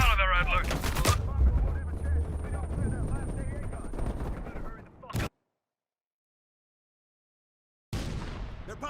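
Heavy machine gun fire in Call of Duty Black Ops Cold War, a steady hammering behind spoken dialogue that cuts to dead silence partway through before the noise returns.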